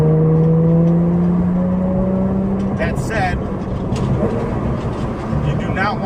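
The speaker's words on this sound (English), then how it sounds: "Dundon exhaust system with the titanium muffler" A Porsche 992 GT3 fitted with a Dundon titanium exhaust and muffler drives by with a steady droning engine note that shifts pitch, heard under someone talking.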